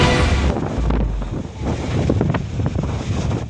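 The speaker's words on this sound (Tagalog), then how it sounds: "Makikita ang hampas ng alon sa seawall ng Block 2 sa Baseco, Maynila sa videong ito" Waves crash against a seawall on Manila Bay at Baseco, Manila, during a typhoon. Heavy surging water and roaring wind buffet the microphone in loud, churning bursts.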